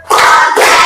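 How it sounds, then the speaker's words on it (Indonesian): A classroom group claps together in two quick bursts of hand claps, loud and close, with a short gap between them. "kita lakukan tepuk 1 sampai dengan tepuk 5"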